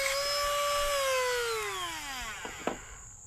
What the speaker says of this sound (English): Simply hold the dressing stone on the side and also on the top